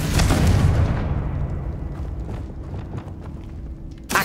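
Confringo blasting spell going off in Hogwarts Legacy: a loud, booming burst that fades over about a second into a low rumbling tail, with another sharp hit right at the end.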